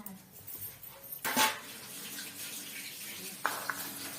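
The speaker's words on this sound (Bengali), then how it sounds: "মাছে হাত দিয়েছি তো, হাতটা ধুয়ে দে।" Running water splashes from a tap with brief louder gushes as hands move under it, close by, with faint background noise.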